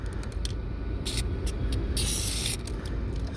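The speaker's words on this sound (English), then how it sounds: "you just want to spray a little bit right there" An aerosol lubricant is sprayed onto a car door hinge in short hissing bursts, with one longer spray in the middle, close and fairly loud, with no talking.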